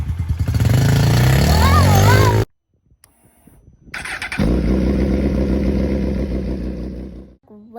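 A Yamaha TTR-50 dirt bike engine is started and revved, a steady mid-pitched engine drone that holds loud and close for several seconds after a brief pause, with a child's and an adult's voices talking over the opening moments.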